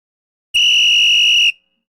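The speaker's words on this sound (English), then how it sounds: "I'll blow the whistle" A referee's whistle starts a race at an oval track marathon night: one loud, steady, shrill blast lasting about a second, sounding alone against silence.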